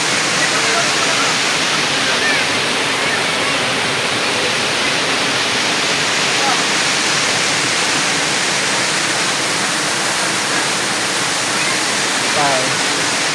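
A waterfall at Tobuan, Labrador, Pangasinan rushes in a loud, steady, unbroken roar that fills the whole stretch.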